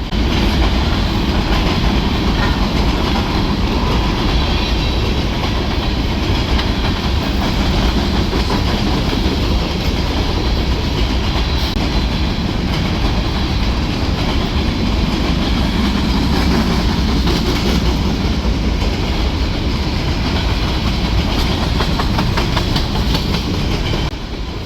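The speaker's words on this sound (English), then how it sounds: "It is a westbound BNSF grain extra, which means it is an empty train returning to be loaded." Empty westbound BNSF grain train passing at a railroad park in Rochelle, Illinois, a loud continuous rumble of rolling cars with rhythmic clickety-clack of wheels over rail joints and faint wheel squeal, no voices.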